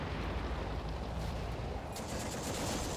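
Gunfire in the Combat Mission: Afrika Korps World War II strategy game, a dense, distant crackle of rifle and machine-gun fire mixed with rumbling battlefield noise, steady throughout the short span.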